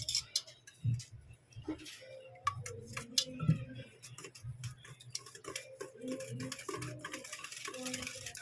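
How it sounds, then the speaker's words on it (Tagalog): Leche flan mixture with calamansi juice being stirred in a bowl, giving light repeated ticking and clinking of a utensil at an irregular pace, close but fairly quiet, with faint talk now and then. "Haluin na natin."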